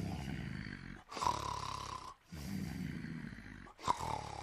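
A cartoon character's loud snoring in a rowing boat, a voice imitating it, with three long rasping breaths separated by brief silent pauses.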